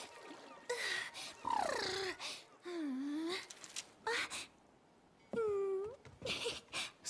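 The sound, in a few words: cat sound in Honor of Kings video game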